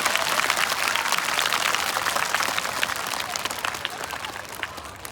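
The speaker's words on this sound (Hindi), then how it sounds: "तालियां बजा के बताओ कितने जोर से मेरी बात का समर्थन करते हैं आप" A live audience at a motivational comedy talk applauds steadily, a dense wash of clapping that holds for several seconds at moderate distance, with a little crowd murmur mixed in.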